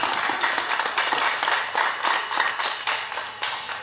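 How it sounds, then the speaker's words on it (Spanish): Audience at a 2021 raffle prize ceremony for the Tacámbaro diocesan seminary gives loud, sustained applause, with many hands clapping in a close, dense rhythm throughout. "Aplauso fuerte, por favor."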